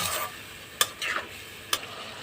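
Spices and tomato stir-fry in a pan for a fish roe curry, a constant sizzle broken by two sharp spatula scrapes against the pan and a softer stir between them, all close and without talk.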